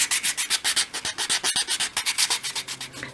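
Sandpaper rubs over a small 1/12th scale wooden crate in quick, even back-and-forth strokes, close and steady, with no talking.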